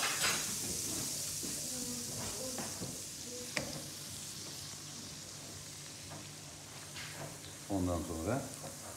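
Butter sizzling in a pan before bread is fried, a faint soft hiss under quiet clinks and utensil taps, with a voice briefly near the end.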